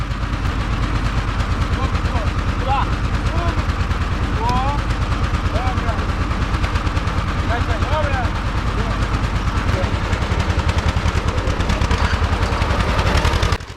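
An old farm tractor engine chugs steadily throughout, a loud low rhythmic knocking under a rural building site, with voices talking and calling over it.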